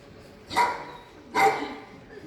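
A dog barks twice, close and fairly loud, with a short pause between the two sharp barks at an outdoor charity awards event.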